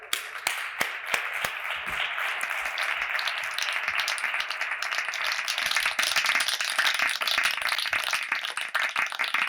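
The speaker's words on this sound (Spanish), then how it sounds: "Un aplauso, por favor, para él." Audience at a talk with a guest speaker from Liberty Mutual Insurance breaks into applause, a few sharp lead claps then a dense, steady wash of many hands continuing for several seconds, fairly close and without speech.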